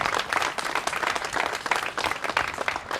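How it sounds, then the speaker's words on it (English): Dense, steady applause from a crowd at a downtown ribbon cutting ceremony, continuous clapping filling the whole stretch with no talk over it. "Round of applause."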